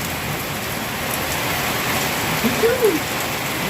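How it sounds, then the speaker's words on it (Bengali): Steady rain falls in a constant hiss on surfaces, with a brief faint voice-like sound partway through. "তুমি বৃষ্টি দেখো একদম"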